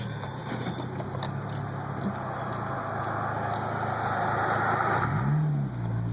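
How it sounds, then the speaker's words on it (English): A 2002 Acura RSX Type-S engine hums steadily from inside the cabin while driving, with a low rumble, road noise, and a brief rise in engine pitch near the end. "We'll turn the radio off so y'all can hear the car run."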